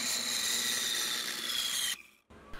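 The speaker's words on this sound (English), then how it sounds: "All I need to do is cut the miter right in the center and at the right angle" Saw cutting a miter through wooden bike frame pieces, a steady close rasping stroke lasting about two seconds before stopping, then a faint knock.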